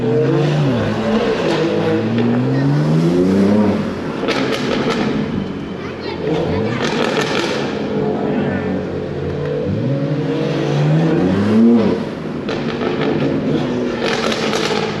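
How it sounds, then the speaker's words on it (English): A loud G80 BMW M3 on a New York City street revs hard and repeatedly, with rising engine sweeps and heavy exhaust bursts and thuds, up close and dominating throughout. "his car is so loud you can't even hear the M3"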